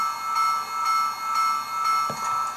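A sound-equipped Athearn 4-8-8-4 Big Boy Union Pacific 4014 model steam locomotive rings its bell in an even, repeating rhythm, about five strokes, fairly quiet over a steady tonal hum.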